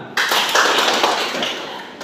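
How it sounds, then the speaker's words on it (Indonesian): A group of children claps hands in a classroom after an action song, a sudden dense burst of rapid claps that holds steady for about two seconds and then fades out, with no voices over it. "Oke, tepuk tangan."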